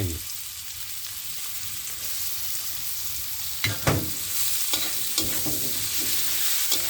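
Garlic and shiitake mushrooms stir-fried in a hot pan for fried noodles, with a steady sizzle throughout and a few scraping stirs of the spatula standing out near the end.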